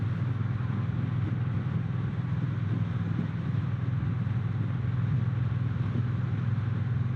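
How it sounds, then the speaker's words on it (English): Triumph Bonneville T120 with its 1200 engine cruising in fourth gear near 2,500 RPM, a steady low purring drone heard continuously with wind noise, fairly quiet and even throughout. "This 1200 engine just sounds good too."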